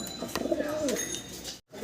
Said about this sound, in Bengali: সিঙ্গেল এক পিস কবুতর দেখাচ্ছি, জার্মান শিল্ড